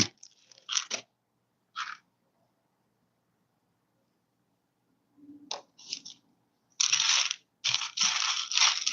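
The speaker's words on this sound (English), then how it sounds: "Enjoy the Lego ASMR as I search for a singular piece amongst" Plastic LEGO pieces clatter and rattle in short, close bursts as a hand rummages through a pile searching for one piece, with quiet pauses between scoops and a denser run of clicking at the end.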